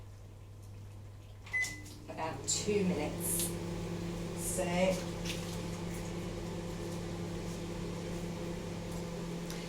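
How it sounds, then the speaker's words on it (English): A microwave oven hums steadily while cooking green beans, after a door clunk and a few beeps, with a person speaking briefly over the drone. "it's probably a bit noisy at the moment because I've got the microwave on"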